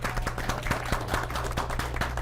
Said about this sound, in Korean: 수고하신 MC 분들께 박수 부탁드리겠습니다